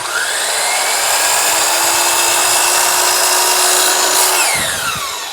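A power tool shaves a thin strip of wood off a board for a rustic farmhouse-style vanity, a loud, steady high whine held close for about five seconds before it winds down at the end.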